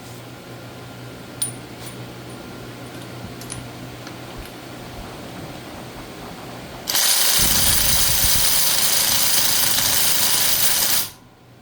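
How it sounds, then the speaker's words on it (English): A Seesii WH760 cordless impact wrench, set to its lowest setting, runs on a wheel lug nut: after a quiet stretch with a few small clicks, a loud steady buzzing whir starts abruptly and runs for about four seconds before cutting off. "we're going to keep this in its lowest setting, and we're going to see if this can take this lug nut off"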